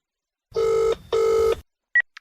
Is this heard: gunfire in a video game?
no